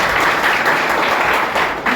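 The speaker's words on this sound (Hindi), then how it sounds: "ताली बजा दी जाए" Dense crowd applause fills a public event in Panna marking the launch of the Dial 112 police service, a steady wash of many hands clapping at once, close and loud throughout.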